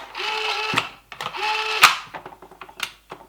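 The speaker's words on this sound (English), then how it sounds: "And a nice operating faux bolt." Faux bolt worked on a metal-version CYMA M4A1 airsoft rifle: two drawn-out sliding rasps each ending in a sharp metallic snap, followed by a string of lighter clicks and rattles, close and alone.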